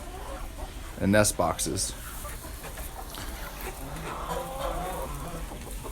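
Chickens in a winter coop with roost bars and nest boxes give a short burst of loud clucking and squawks near the start, then softer scattered clucks under a person talking.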